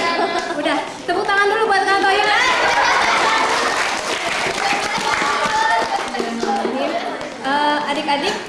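Schoolchildren on a class tour clap together in a lively room, a sustained burst of applause mixed with excited young voices and chatter, fading toward the end.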